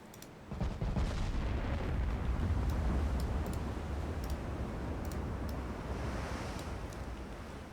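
Heavy 18-inch naval guns firing in the DIP v3 video game, deep low booming rumbles rolling on continuously at moderate loudness, with faint ticking clicks scattered on top and no voices.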